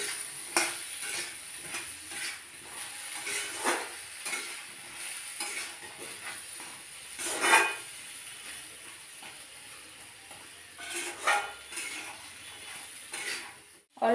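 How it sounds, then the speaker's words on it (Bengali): Salt, turmeric and chilli powder lightly stir-fried in a pan, with a quiet soft sizzle under repeated scraping strokes of a spatula and occasional louder clinks against the pan. "এটাকে অল্প একটু নেড়ে নেব, বেশি ভাজবো না, হালকা করে একটু ভেজে নেব"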